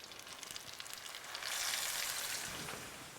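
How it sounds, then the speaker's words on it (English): Flour-coated chicken sizzling and crackling as it fries in a hot pan, a soft steady hiss that swells briefly in the middle. "I love the sizzle of chicken in a pan."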